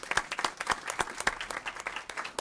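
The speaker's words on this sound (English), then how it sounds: "Let's give them a nice round of applause." A small group at a city council meeting applauds advisory council members, fairly sparse individual claps at moderate volume, with no talk.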